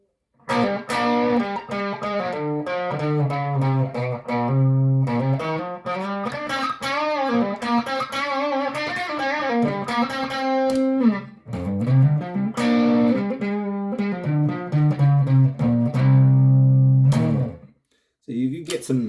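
Electric guitar played through a Lil Rat distortion pedal, loud and continuous with sustained distorted chords and single-note runs, brief pauses near the end.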